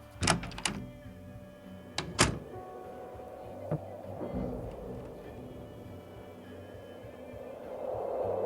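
A door to the lounge in the video game Frequency Missing, a couple of sharp knocks or clunks followed by a sliding rumble and low ambient hum.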